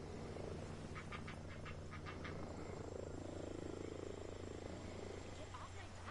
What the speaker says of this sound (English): Okay, this is going to be helicopters to deal with